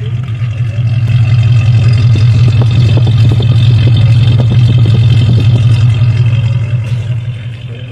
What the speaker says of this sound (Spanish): Vamos a escuchar el escape.